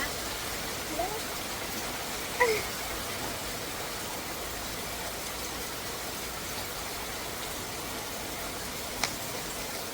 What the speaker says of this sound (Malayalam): ഇവിടെ നല്ല മഴയുണ്ട്